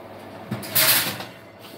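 An oven door swings open and shuts as a tray of Jamaican-style part-fried chicken back pieces goes in, a muffled clunk followed by a broader hollow thud and brief rattle, close and moderately loud, with no talking.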